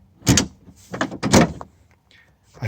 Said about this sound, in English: I closed the tailgate